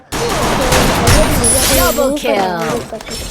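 Revolver and weapon fire in a multiplayer shooter game round rattles in dense, continuous bursts, loud and close, with tonal voice-like sounds weaving through the barrage.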